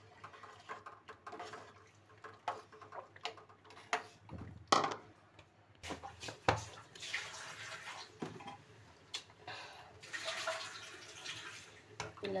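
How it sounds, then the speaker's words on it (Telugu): A pot of semiya and sago payasam boils on the stove, giving irregular soft bubbling pops and gurgles that rise and fall, fairly quiet and close, with no one speaking. "ఇలా చక్కగా బాయిల్ అవ్వనివ్వాలి ఉడికేంత వరకు."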